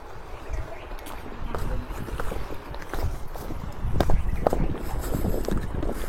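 A fast speedboat runs along a river with a low, continuous engine rumble and heavy wind buffeting the microphone, and voices are heard faintly over it.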